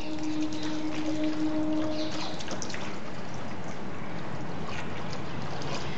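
Hose spraying water onto a tractor during washing, a continuous hissing splash, close and steady for the whole stretch.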